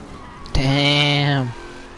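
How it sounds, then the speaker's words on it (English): A car in Mafia Definitive Edition lets out a short, loud engine rev or tire squeal that rises sharply, holds for about a second, then cuts off, heard on its own. "This is like an F1 car, but like I've already crashed it."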